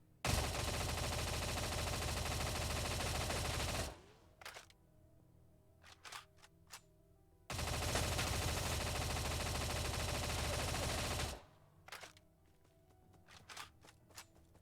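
Video game BAR rifle firing in two long sustained full-auto bursts of about four seconds each, loud and dense, with mechanical clicks and rattles in the pauses between them.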